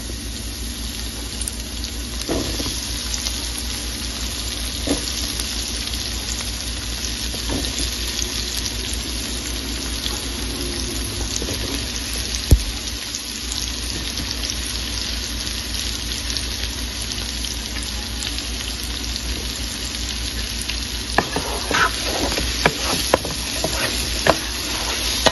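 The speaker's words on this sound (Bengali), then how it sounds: "ঢেঁড়সগুলোকে ঢেলে দিচ্ছি।" Okra sizzles steadily in a hot pan for a stretch of cooking, a constant frying hiss with occasional stirring scrapes and clinks, louder toward the end, with no talk.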